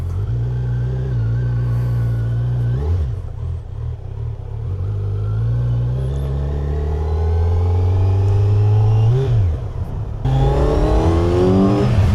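A 2025 Kawasaki Z900's inline-4 engine while riding, loud and close, droning and climbing in pitch through the gears with brief dips at each shift, then revving up strongly again near the end; no one speaks.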